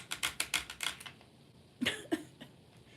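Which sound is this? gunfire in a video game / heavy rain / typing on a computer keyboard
typing on a computer keyboard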